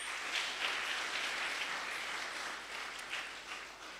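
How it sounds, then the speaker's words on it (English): An audience at a panel discussion on freedom of expression and assembly claps for the panelists, a dense, even wash of applause sustained for several seconds and tapering slightly at the end. "Can you clap for my panelists?"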